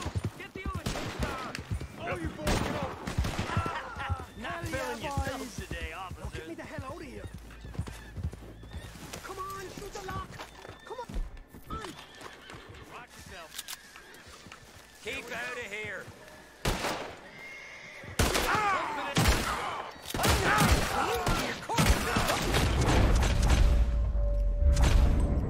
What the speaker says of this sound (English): there's gunfire happening over there